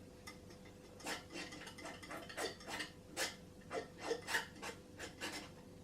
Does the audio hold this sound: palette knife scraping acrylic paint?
yes